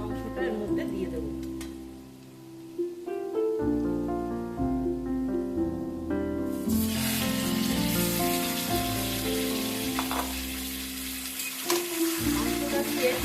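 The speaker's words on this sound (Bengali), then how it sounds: "এখন আমি মাংসটা এর মধ্যে দিয়ে দেবো।" Chicken pieces fry with lightly browned onions in a pan for coriander chicken curry, a broad hissing sizzle that grows louder partway through under prominent background music.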